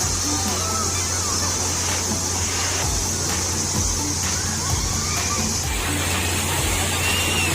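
Water sloshes and churns in a resort wave pool as a wave rolls through, a steady watery rush with a low mechanical hum beneath and faint voices in the background.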